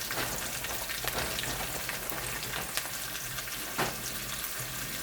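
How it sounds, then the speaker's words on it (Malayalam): Curry leaves and crushed dried chillies drop into hot oil and sizzle loudly, a dense steady crackle and hiss that runs the whole time with a few sharper pops, close up and with no voices. "കരിവേപ്പില ഇട്ടട്ടെ."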